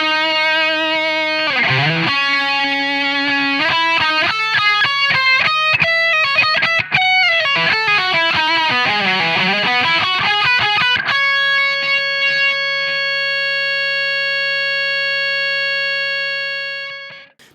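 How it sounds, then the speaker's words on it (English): A Boss DF-2 Super Feedbacker & Distortion pedal on electric guitar, played solo and with distortion, running through quick bends and picked runs, then a held chord sustaining indefinitely as a steady harmonic drone before fading out. "So you just hold down the foot switch and you get this infinite sustain."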